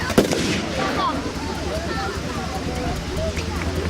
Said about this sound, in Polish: oto mamy wybuch mostu